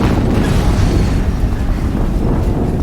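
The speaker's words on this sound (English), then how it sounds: "Another explosion." A loud explosion in the video game Horizon Zero Dawn, a dense rumbling roar that holds steady for about three seconds without a clear single onset, with no voices over it.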